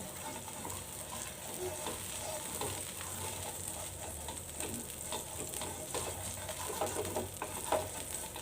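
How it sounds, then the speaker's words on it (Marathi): Oil sizzles steadily on a hot dosa pan as a carrot spreads it across the surface, a continuous close hiss with faint scraping and no voices. "मी आता थोडंसं तेल टाकून घेते आणि मी जे हे गाजर आहे ना तर त्याच्या साहाय्याने व्यवस्थित पसरून घेते"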